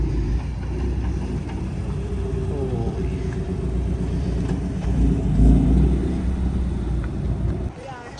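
A Honda NSX driving past at a small nighttime car meet, its engine a deep close rumble that swells briefly as it passes, with general crowd and motor noise around it.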